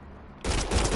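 A sudden loud burst of gunfire erupts in Mass Effect Andromeda, cutting in sharply after a quiet lead-in and continuing as a close, rapid volley.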